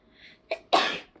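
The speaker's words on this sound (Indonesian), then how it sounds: "mau bersin." One person sneezes close up: a short breathy intake, a brief catch, then a loud explosive burst that trails off, with a faint sound after.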